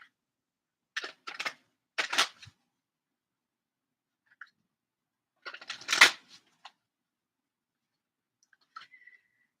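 Osho Zen Tarot cards being handled and shuffled, giving short crisp riffling bursts and light clicks in a few separate clusters with silent gaps between, close and quiet.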